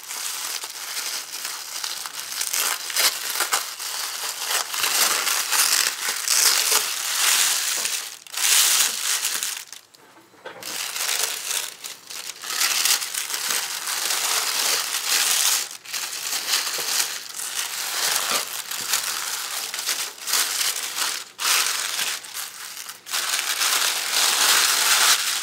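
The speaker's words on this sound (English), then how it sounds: "And some polka dot tissue paper." Polka dot tissue paper crinkled and crushed by hand, continuous rustling and crackling with brief pauses, close and fairly loud, alone.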